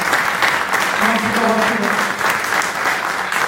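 Loud, dense applause fills a book-presentation hall, a continuous wash of many hands clapping, with a brief voice surfacing faintly underneath.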